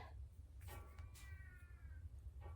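A house cat meows for attention, two drawn-out rising meows close by with a short chirp at the end, over a low background hum.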